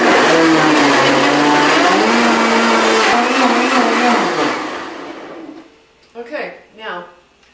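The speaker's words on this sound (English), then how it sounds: "This is the Blend Tech, my favorite blender." A Blendtec blender runs loud and close, a steady high-speed motor whir with shifting pitch as the contents churn, then winds down and stops, followed by a few quieter knocks.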